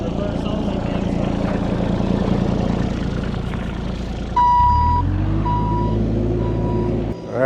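A rumbling engine runs, then a heavy machine starts up close at a tiny house build site for trenching a well line, and a series of evenly spaced reversing beeps sounds over its idle.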